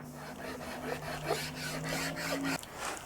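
Masking tape burnished down along a line on a scratch-built electric guitar neck, a close dry rubbing rasp in repeated short strokes over a steady low machine hum that cuts out near the end.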